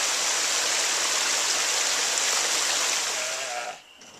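Water rushing steadily over a sealed wooden water wheel, a loud, continuous broadband splash and gurgle that fades somewhat near the end.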